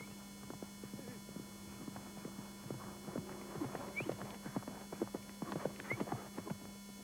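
Steady clip-clop of racehorse hooves on a hard surface at the Palio, a quick rhythmic stream of sharp knocks over a low hum and faint background voices.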